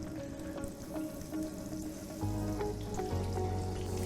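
Tempura-battered lobster pieces deep frying in a fryer of oil at about 190 degrees, a soft steady sizzle and bubbling that grows somewhat fuller partway through, faint and close with no talking.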